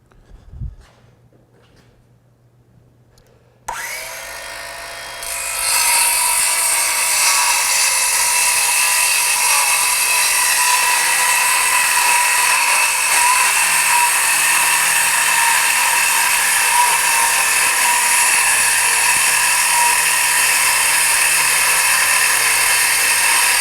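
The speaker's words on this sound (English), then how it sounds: "we've put 4 1/2-inch pieces of OSB together, and we'll cut through them, see how the saw does, see if it bogs down" A Ridgid GEN5X 18V 7-1/4-inch cordless circular saw cuts through a stack of four half-inch OSB pieces. A brief tap and quiet motor hum lead into a loud, steady high-pitched cutting whine that holds without bogging for most of the clip.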